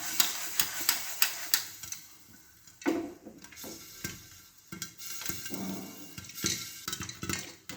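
Sharp irregular crackles and pops from sorghum grains bursting in a pressure cooker on a gas flame, close and fairly loud, with scattered clusters of quick snaps.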